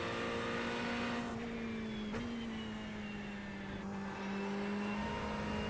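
A Ferrari 488 Evo race car in iRacing drives at the Hungaroring, its engine holding a steady, droning note with a brief shift-like blip partway through, alone without speech.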